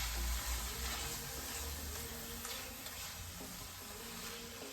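Chili paneer with chili sauce is stirred in a hot pan, giving a faint steady sizzle with soft scraping strokes and no talking.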